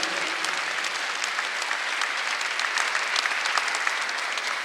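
A church congregation at a Sunday worship service applauds together, a dense, even roar of clapping from a large crowd that holds steady from start to finish.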